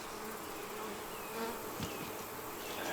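Honeybees buzzing around a lightly stocked hive in an autumn bee yard, a steady close insect hum with no talk.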